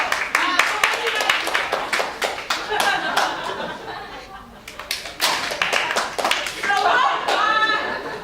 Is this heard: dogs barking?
no